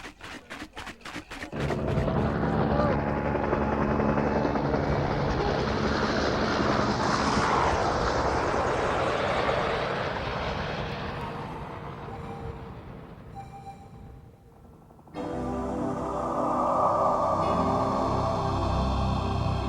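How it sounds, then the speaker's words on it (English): A helicopter flies skiers up to an untouched mountain, heard as a loud, steady rotor-and-engine roar that swells and fades slightly, then continues after a brief break, with no voices. "The chopper took us where no one had ever skied before."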